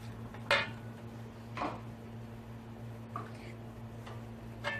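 Chopped onions being stirred with a spoon in a karahi pan: a few faint scraping clacks of utensil against metal, spaced out over a steady low kitchen hum.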